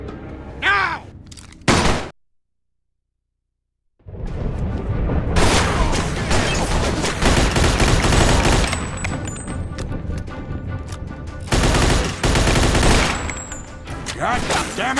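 Intense gunfire in the Mafia 2 video game, with a few opening shots, a sudden gap of silence, then sustained loud rapid bursts and booming shots lasting to the end, with voices shouting under the barrage.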